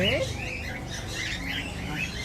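A pet bird chirps and squawks in short, high calls while being hand-fed, heard at moderate distance over a steady background hum and indistinct room noise.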